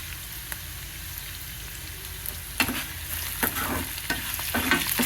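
Ingredients for mango pulihora fry steadily in a pan, a continuous close sizzle with occasional sharper crackles and stirring clicks growing busier toward the end.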